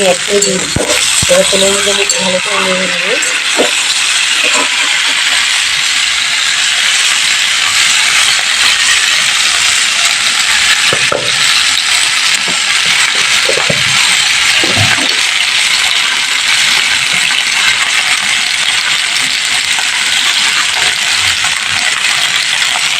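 Cumin seeds frying in hot oil in a pot while being stirred, giving a steady loud sizzle throughout with scattered clinks and scrapes of a spoon against the pan.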